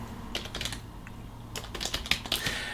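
Quick bursts of typing on a computer keyboard, close by, with irregular clusters of key clicks separated by short pauses.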